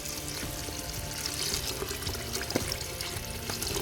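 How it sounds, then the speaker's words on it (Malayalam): Water pours in a steady, soft stream into a fried rice sauce made with tomato and soy sauce, a gentle continuous splashing lasting a few seconds with no voices. "ഇതിലേക്ക് നമ്മൾ ആവശ്യമായ വെള്ളം ആഡ് ചെയ്യുക."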